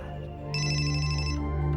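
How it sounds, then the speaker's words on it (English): A telephone rings with a bright electronic ringtone, a sustained tonal warble with a higher trilling burst layered in, close and clear with no talking. "when the phone rings, you respond by picking it up"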